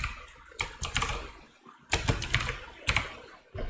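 Typing on a computer keyboard while coding, heard as bursts of close, crisp key clicks separated by short pauses, with no voices.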